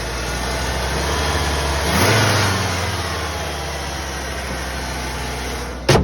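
An old engine, started after long storage, runs steadily at a rough idle with a brief rise in revs partway through, loud and close with no talk.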